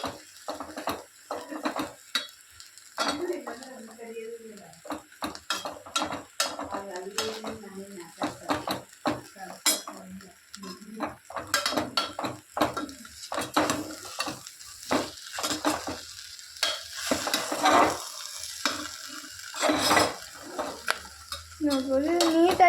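Vegetable pulao being stirred in a metal pan, with repeated spoon scrapes and clinks against the pan over a low sizzle, loud and close with no talk.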